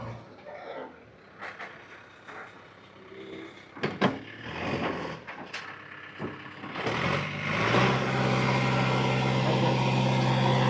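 A JCB engine running with an air lock problem, first with scattered knocks and clanks over a quiet idle, then settling into a louder, steady droning hum toward the end.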